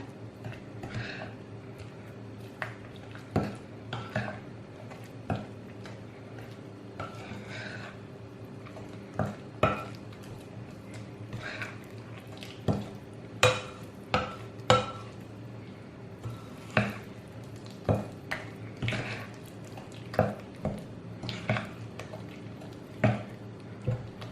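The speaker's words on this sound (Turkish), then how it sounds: "Şöyle kaşığım ile eze eze şöyle bir karıştıracağım." A spoon mashes and stirs şekerpare dough in a bowl, giving repeated soft clinks and taps against the dish in an irregular rhythm, close and fairly quiet with faint background hum.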